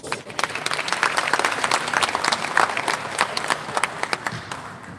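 A dense round of applause from an indoor audience at a book launch at the Canadian University of Dubai, steady and fairly loud for the whole stretch, with a few voices faintly mixed in.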